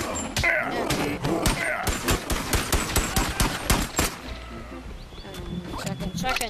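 Rapid shotgun blasts from a movie action scene fire in a dense, uneven burst, loud and close, with shouting voices mixed among the shots before the firing thins out.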